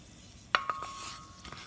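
Spices cooking in a Le Creuset balti dish get a few brief stirs, a sharp clink of the utensil against the dish followed by soft scrapes over faint background noise.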